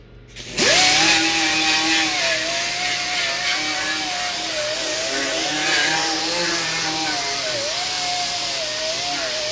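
A power tool with a sanding disc whines on, then holds a steady high grinding tone while cleaning up welds on a Paperboy arcade cabinet, pitch wavering slightly as pressure changes; no talking.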